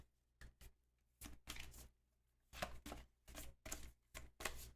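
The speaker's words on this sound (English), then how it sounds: "I'm shuffling up the event cards." A deck of event cards for a board game is shuffled by hand in a series of crisp riffling bursts, close and clear against a quiet room.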